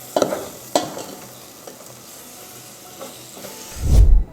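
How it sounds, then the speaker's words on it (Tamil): Onion and tomato sizzle in hot oil for kothu chapati with a soft continuous hiss, punctuated by a few stirring scrapes and a louder clatter near the end. "நம்ம அந்த எண்ணெயில் அந்த வெங்காயம் தக்காளி போட்டதெல்லாம் ஒரு மாதிரி குருன்னு சவுண்ட் வருது"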